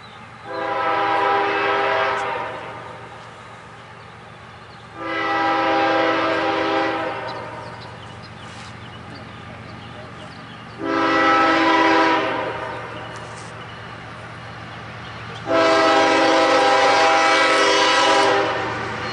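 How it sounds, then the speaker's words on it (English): A CSX coal train passing Folkston, Georgia, sounding its horn in four long, loud blasts with a steady rail rumble underneath. "It's like a coal train."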